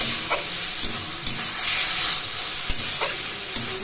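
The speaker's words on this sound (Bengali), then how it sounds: "নাড়াচাড়া করে নামিয়ে নেব" Taro greens cooked with hilsa fish head, stirred in a pan, giving a steady hissing sizzle with occasional soft scraping stirs and knocks, close and continuous with no voices.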